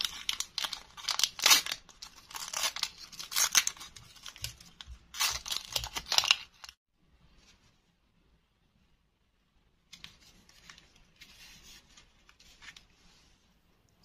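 Paper stickers being peeled off and pressed onto a sheet while unboxing paper surprise packets: close, crisp crinkling and scratchy rustles in uneven bursts, then a pause and fainter rustling.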